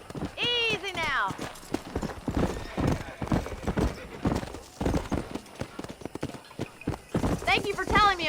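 Horse hooves clip-clop in the video game Red Dead Redemption as a horse is ridden, with whinnies at the start and end, while characters talk over the steady hoofbeats.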